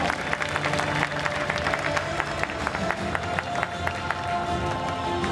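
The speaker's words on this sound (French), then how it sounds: "On peut l'applaudir bien fort" Convention crowd at a cosplay parade applauding a cosplayer, a steady roomy wash of clapping with cheering mixed in, a faint sustained musical tone underneath, and no speech.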